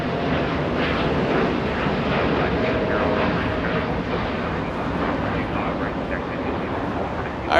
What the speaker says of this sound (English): United lifting off.